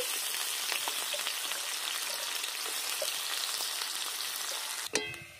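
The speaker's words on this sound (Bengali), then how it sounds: "পেঁয়াজ রসুনটা ভাজা ভাজা করে নিয়েছি" Soft, continuous sizzling of onion and garlic frying in oil, a fine crackle held steady at moderate level, ending with a brief clink.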